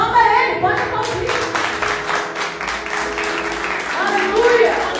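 Church congregation applauding together, a dense steady wash of clapping filling the room with a voice rising over it at the start and end.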